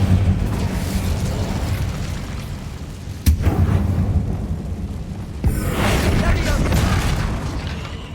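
An Incendio fire spell goes off in a wizard video game as a deep booming whoosh that swells over a steady low rumble, followed by a second burst a few seconds later, with a voice speaking over it.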